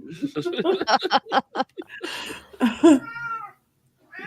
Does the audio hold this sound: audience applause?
no